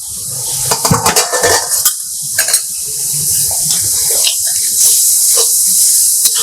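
Water is poured into a cauliflower dish cooking in a pan, with a splashy hiss followed by clattering stirring against the pan, loud and close, while a voice talks over parts of it.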